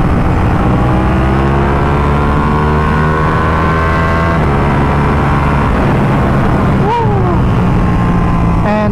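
A sportbike engine, apparently a Yamaha R1, revs loud and close on a canyon road, its pitch climbing and dropping through gear changes over a steady roar of wind.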